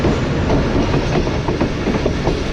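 The Tezgam train rolls into Jhelum with a loud, continuous rumble and a rhythmic clickety-clack of wheels over rail joints, heard from inside the carriage with no voices.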